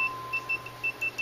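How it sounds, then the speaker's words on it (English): A multimeter set to continuity beeping while testing a single-wire door switch: a series of short, intermittent electronic tones in quick succession, close and clear, with no talk. "Test it, it should beep."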